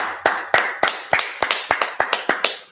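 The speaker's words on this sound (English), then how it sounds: "Let's go ahead and clap it up." Rhythmic group clapping opens a Feast of Tabernacles evening service, about ten crisp, evenly spaced claps with a lively, roomy ring and no talk.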